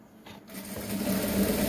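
A sewing machine starts up and runs in a steady, close, rapid whirring hum, top stitching a folded trouser placket.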